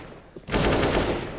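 Gunfire in a Counter-Strike match on the Mirage map, a sudden loud burst of shots that erupts after a quiet moment and rings on steadily, close and dense, with no talk over it.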